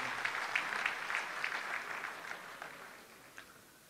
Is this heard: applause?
yes